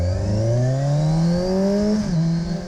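Engine of a 2017 Kawasaki Ninja 1000 ABS motorcycle revs up steadily, its loud tone rising in pitch for about two seconds before dipping slightly as the revs drop back.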